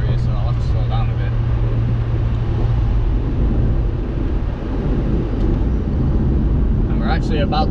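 Mazda MX5 on the move, a continuous low engine drone and road rumble with some wind buffeting from inside the cabin, a voice speaking briefly at the start and end.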